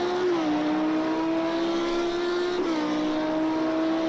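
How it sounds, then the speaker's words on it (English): A GT3 race car in a sim race, its engine screaming loudly as it climbs through the gears, the pitch rising and then dropping sharply at two distinct upshifts, with no other sound competing. "Then up through the gears."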